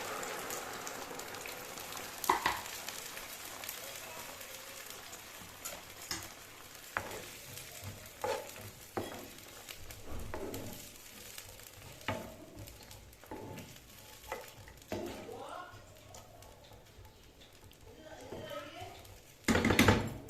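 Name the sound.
chickpeas added and frying with onions in a pan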